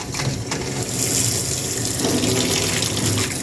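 A newly installed kitchen faucet runs hot water into the sink in a steady, fairly loud gushing stream with no pauses.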